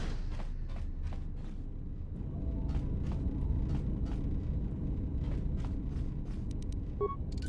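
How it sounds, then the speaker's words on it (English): Turbolift moving in Star Wars Knights of the Old Republic II: a low, steady mechanical rumble with faint scattered clicks and taps over it, ending in a brief higher blip. "that's the turbo lift"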